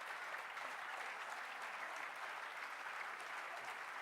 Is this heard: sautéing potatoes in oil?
no